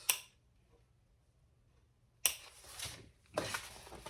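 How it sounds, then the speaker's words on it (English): Two crisp scissor snips cut through fabric, a quick sharp cut followed by another after a short pause, close by in a quiet room. "Use some nice sharp scissors"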